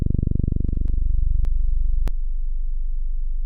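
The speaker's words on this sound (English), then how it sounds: "basically it's a sine wave with a low pulse width" A sharp synthesized sine wave with low pulse width, built in Pure Data, buzzes steadily and alone, its tone shifting with brief clicks as the sharpness changes.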